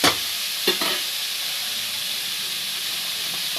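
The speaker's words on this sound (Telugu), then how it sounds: "ఆనియన్స్ వేసుకోవాలి ఆయిల్లోనే, బాగా మండుకోవాలి." Sliced onions fry in hot oil in a pan for a Telugu curry, giving a steady bright sizzle and hiss, with a couple of sharp stirring clatters near the start and no talk.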